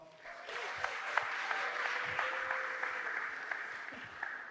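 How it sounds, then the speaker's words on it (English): An audience at a Black student athlete summit at USC breaks into steady applause, a continuous wash of clapping with a few sharper individual claps, moderately distant and fairly quiet. "Can we give them a round of applause?"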